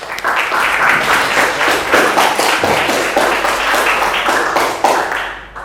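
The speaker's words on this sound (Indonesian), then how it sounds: "Beri tepuk tangan Mas." A class of teachers-in-training claps together in a lecture room, a loud, continuous patter of many hands that holds steady for several seconds and then stops abruptly.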